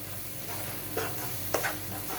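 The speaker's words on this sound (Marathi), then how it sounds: "ते छान तेलामध्ये परतून घ्यायचे" Malvani masala paste being stir-fried in oil for a black vatana usal, a soft low sizzle with a couple of brief scraping stir sounds, quiet and close with no talking.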